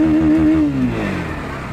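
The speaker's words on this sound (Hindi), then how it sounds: "एंड गाइस मैं आपको बाइक का एक बार RPM का साउंड सुना देता" A 2023 Bajaj Pulsar NS160 motorcycle engine revs loud and close, its droning tone holding high briefly, then dropping and settling back toward idle.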